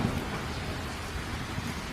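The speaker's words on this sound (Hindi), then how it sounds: "तभी अचानक बहुत ही तेज बारिश शुरू हो जाती है।" Heavy rain pours down steadily with a low rumble of thunder underneath, a dense, even wash of sound with no voices, quite faint overall.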